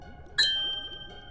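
A notification bell gives a single bright, ringing ding with a clean metallic attack that decays slowly, heard alone and close.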